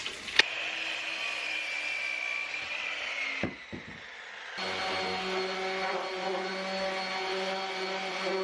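Sawing through a ripped-down 2x4 wooden board cut to length, a steady buzzing cut that breaks off briefly with a few knocks before the saw runs on again, close and alone without talk.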